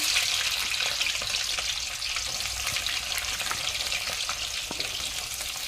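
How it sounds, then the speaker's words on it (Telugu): Onions, green chillies and fenugreek leaves go into hot oil for an egg curry and sizzle in a loud, steady, close frying hiss with occasional crackles and stirring. "నూనె అయితే వేడైంది కదా. ఉల్లిగడ్డలు, పచ్చిమిరపకాయలు, మెంతికూర."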